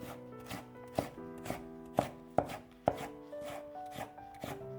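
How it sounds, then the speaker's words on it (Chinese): A knife chops a peeled carrot into thin strips on a cutting board, with a steady series of crisp, close taps and no voices. "胡萝卜去皮之后切成薄片， 再改刀切成细丝"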